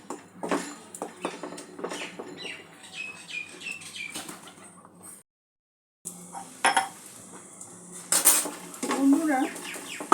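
A spoon stirs a coconut mixture for sandesh around a pan, making close, irregular scraping and clinking strokes that break off into a brief silence before resuming with a few sharper metallic knocks.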